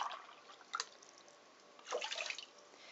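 Water splashes and trickles into a pot of washed rice in two short pours, quiet and close, with a brief gap between them.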